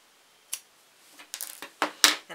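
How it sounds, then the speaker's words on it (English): A few crisp snips of scissors cutting yarn from a finished double-brim beanie made on a Sentro knitting machine, quiet and close, with sharper cuts near the end. "So now that I'm done, I can snip my yarn."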